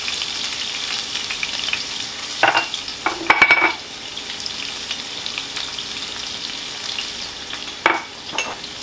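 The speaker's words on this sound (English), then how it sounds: "and you could saute vegetables for like 2 minutes on low heat." Vegetables sauté in a pan on low heat for Jamaican ackee and saltfish, a steady close sizzle with a few short stirring scrapes and clinks of utensil against pan.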